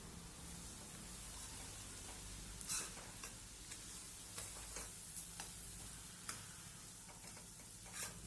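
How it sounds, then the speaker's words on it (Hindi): Wheat flour roasting in ghee on a low flame for panjiri while being stirred continuously, a steady soft sizzle with scattered scraping clicks of the spoon, fairly quiet and without speech. "सारा घी डालने के बाद हम आटा डालेंगे और आटे को अब हम भून लेंगे"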